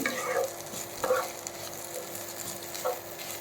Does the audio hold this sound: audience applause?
no